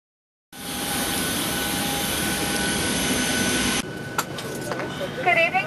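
Steady jet engine roar and airplane cabin hum fill a flight bound for Atlanta, starting abruptly after a brief silence, then dropping slightly as a few clicks and a voice break through near the end.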